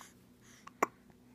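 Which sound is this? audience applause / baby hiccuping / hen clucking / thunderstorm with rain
baby hiccuping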